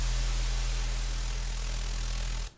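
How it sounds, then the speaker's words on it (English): A synth in Ableton Live plays a dense, steady buzz shaped by asymmetric distortion, with a strong low drone and noisy upper fizz. It holds evenly at high level, then cuts off abruptly. "You get this like buzzing"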